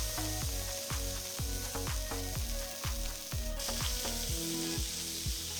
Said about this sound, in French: la poêle est chaude, on dépose nos 3 steaks hachés